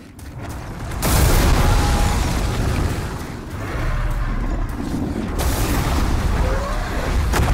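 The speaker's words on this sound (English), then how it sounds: "Let him blow fire real quick" An enemy in Demon's Souls blowing fire: a loud, sustained roaring whoosh that surges in, rumbles low and steady for several seconds, dips briefly, then swells again with a rougher rushing texture.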